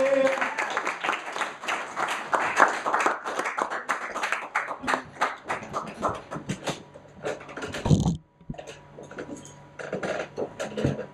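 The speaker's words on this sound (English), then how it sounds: "let's bring him on with a nice round of applause" A studio audience at a comedy game show claps in a lively, uneven round, with sharp individual claps standing out and a brief dip near the end before the clapping resumes.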